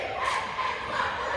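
A live crowd cheers and roars in a brief, steady wash of massed voices, dense and moderately loud.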